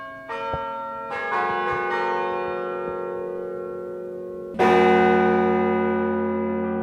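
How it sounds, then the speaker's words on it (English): Carillon bells ring out from the 80-meter tower of the KU Leuven Library, with several distinct strikes whose resonant tones overlap and linger, ending in a louder, fuller peal that slowly decays. "The impressive building includes an 80-meter-high tower, which houses a carillon"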